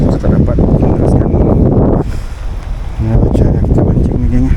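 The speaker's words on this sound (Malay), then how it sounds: "hujan dah semakin padu." Heavy rain and gusting wind roar over a fishing boat on a river, a loud, steady wash of noise that dips briefly in the middle, with a voice talking over it.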